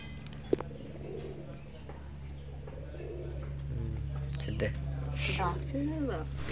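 Domestic pigeons coo in a loft, with low soft repeated coos over a steady background hum and a voice talking nearby.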